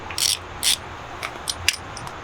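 Ratcheting clicks come from removing a 27 mm wheel bearing nut, after the cotter pin and lock nut, on a Ford E350 front hub: two short bright bursts, then a few lighter scattered clicks. The sound is close and fairly quiet.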